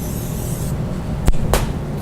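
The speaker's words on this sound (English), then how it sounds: "to prepare our molds, we're going to take our ramekins, spray them with a little Vaseline" Two short hissing bursts from a spray can coat ceramic ramekins, used as cake molds, with a light layer of grease; the sprays are close and quick, about a quarter second apart, over a low kitchen room hum.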